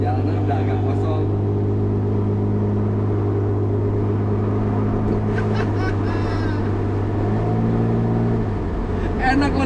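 Steady engine drone of a Tuksedo Studio 300 SL Gullwing replica car on the road, a low constant hum with shifting pitch as it speeds up, voices talking faintly over it.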